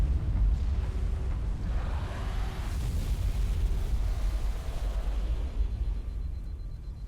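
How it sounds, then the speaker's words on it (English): A massive explosion as a Scarab walker is destroyed in the Halo video game, a loud, sustained low rumble with roaring debris across the whole stretch and no speech. "seeing the Scarab go out in a massive explosion is so damn satisfying"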